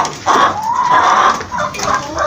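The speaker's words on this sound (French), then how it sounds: "Regardez-moi cette poule." A hen in a freshly cleaned henhouse gives a few close, loud clucks and throaty calls in quick succession, with no talking.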